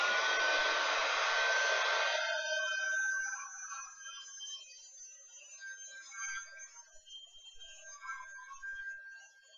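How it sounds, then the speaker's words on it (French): Hair dryer blowing on acrylic paint, a loud steady airy whoosh for a few seconds that then drops to a fainter, fluctuating hiss, no talk. "Un petit coup de séchoir."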